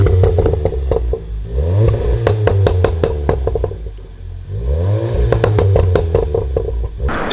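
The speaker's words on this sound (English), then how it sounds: "let's end this video off with some more revs" Powerful car engines rev hard in repeated rising and falling bursts, loud and close, with sharp crackling pops between revs.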